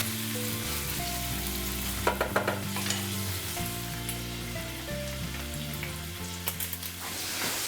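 Steady frying sizzle with occasional stirring clinks, over a soft background of music with sustained tones; no voices.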